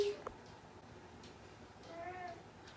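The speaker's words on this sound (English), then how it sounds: "My cat's in here." A pet cat in a bedroom gives a short, faint meow near the start, then a quiet room tone follows with a softer, drawn-out cry later.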